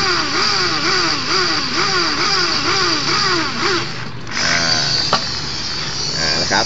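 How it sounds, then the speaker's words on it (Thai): A drill bores into metal to fit a gas injector, giving a loud, close whine that rises and falls in repeated cycles as the tool is worked slowly through the hole. A brief clatter follows near the end. "ช่างเริ่มทำการเจาะแล้วนะครับ เทคนิคการเจาะ เราค่อยๆเจาะนะครับ"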